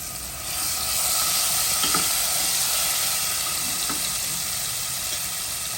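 Loud, even sizzling of garlic chutney hitting hot oil, a dense hiss that swells at the start and holds steady, with a couple of faint clinks.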